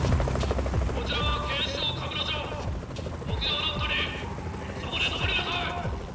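A helicopter in the video game Yakuza: Like a Dragon gives a rhythmic rotor chop under game music and effects, while a person talks over it.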